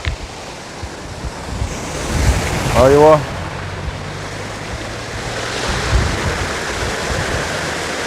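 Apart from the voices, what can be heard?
water flowing among mountains in Oman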